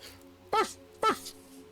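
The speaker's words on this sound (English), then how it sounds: "You can hear it barking in the distance." A dog barks twice in a video game hunting scene, two short, sharp barks about half a second apart over a low, steady background hum.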